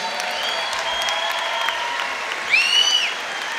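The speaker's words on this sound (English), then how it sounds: "a massive round of applause for both fighters" A crowd at a YOKKAO 15 Muay Thai event applauds both fighters, a steady roar of clapping with a sharp rising whistle cutting through near the end.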